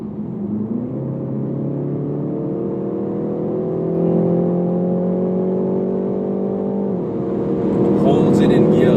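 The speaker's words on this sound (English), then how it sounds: "straight away the revs jumped" A 2019 BMW 330i G20 in Sport mode holds a raised, steady engine note that climbs gradually, dips briefly, then rises again, loud and close with cabin whir underneath and a voice talking at points.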